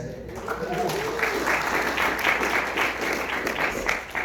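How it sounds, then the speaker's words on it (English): An audience at a Frameline film festival Q&A applauds, with clapping swelling after a brief quieter start and continuing at a steady, fairly close level. "So give him a round of applause, yes."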